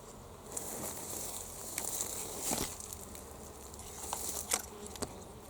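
Bees buzz around the flowers of a male capsicum tree outdoors. The drone is steady and low-level, with faint rustles and brief close passes.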